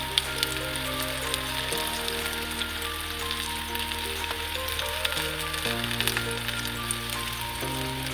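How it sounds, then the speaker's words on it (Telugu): Cauliflower pakodi batter frying in hot oil over a medium flame gives a steady, dense sizzle and crackle that runs unbroken from start to end, with a faint background hum and no talking. "ఇలా నూనెలోకి వదులుకోవాలి. స్పూన్తో అయితే ఈజీగా వస్తుందండి, చెయ్యికి నూనె వేడి తగలకుండా ఉంటుంది."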